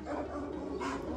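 A dog yips and whimpers in short, close bursts while confronting a small dog, the sounds running nearly continuously through the brief moment.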